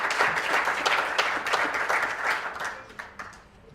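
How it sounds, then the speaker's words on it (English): Warm applause from an audience greeting honored guests at a promotion ceremony, a dense, steady patter of many hands that gradually thins and fades toward the end. "Ladies and gentlemen, a warm round of applause for all our honored and distinguished guests."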